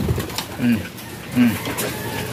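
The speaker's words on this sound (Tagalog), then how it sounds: "Paikot-ikot dito, akala niya makakatuka siya mga kalapatids" Pigeons near a trapdoor loft give two soft, low coos about a second apart, close by, over a faint background of other sounds.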